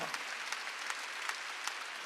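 Congregation clapping in steady rhythm during a Wednesday church worship service, faint and continuous for about two seconds.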